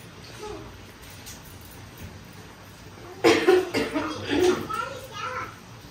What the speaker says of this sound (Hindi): खांसी हो गई है मुझे